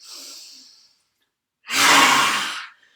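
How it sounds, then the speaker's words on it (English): Rasping breath from the throat during a yoga exercise: a short airy exhale fades out, then after a pause a long, loud, rough breath sounds close to the microphone with no talk. "make that good rasping sound in the throat as well"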